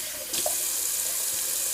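Cold water pouring from a bathroom faucet into a sink for rinsing after a shave, a soft steady stream close by that starts abruptly and runs on without talk.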